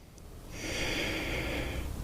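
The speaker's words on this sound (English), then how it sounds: "Sorry about the sniffles, guys." A single close, drawn-out sniffle: a sharp nasal inhale lasting over a second, with no speech.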